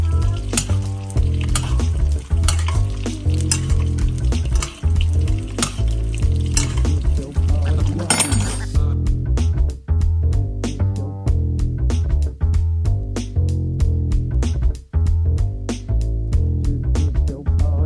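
A cowboy cut ribeye sizzles steadily in a pan while being basted with butter, thyme and garlic, with regular spoon clinks against the pan.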